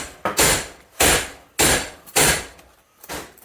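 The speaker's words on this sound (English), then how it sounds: "just knock it on with using a copper hammer" A copper hammer knocks a CV joint onto a shaft on a retro Vauxhall Nova, four loud, close, ringing metallic blows at a steady rhythm with a fainter tap between.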